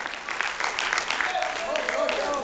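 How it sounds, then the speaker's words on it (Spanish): A church congregation claps together in a brief burst of applause, dense and moderately loud, with voices mixed into the clapping. "¿Cuánto le dan un aplauso al Señor?"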